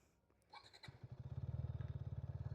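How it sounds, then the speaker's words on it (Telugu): A KTM Duke 160 motorcycle starts up and settles into an idle, its exhaust giving a close, steady, loud pulsing thump after a brief starter whir. "ఒకసారి ఆన్ చేసుకొని let me show you the exhaust note."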